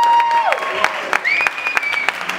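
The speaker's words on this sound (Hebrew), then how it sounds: "קודם כל, מחיאות כפיים" An audience at a Zouk-Lambada Jack & Jill dance competition claps in a dense, lively burst of applause, with a tonal electronic squeal and a few louder sharp claps standing out.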